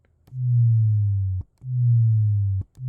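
Two long, deep synthesized sine test-tone bass notes, each holding steady for about a second with a soft attack, separated by a short gap.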